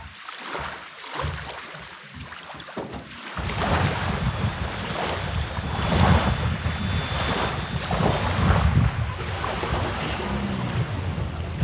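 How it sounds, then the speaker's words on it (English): A boat on Alaskan coastal water moves into deeper water. Strong wind buffets the microphone and water washes and splashes loudly and steadily nearby, with a motor-like rumble underneath and no voices. "So got to move my boat into deeper water."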